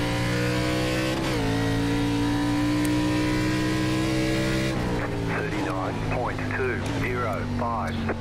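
An ARCA stock car engine in the iRacing sim at Twin Ring Motegi, droning loud and steady at high revs, then wavering and revving up and down as the car works through corners, with someone talking over it.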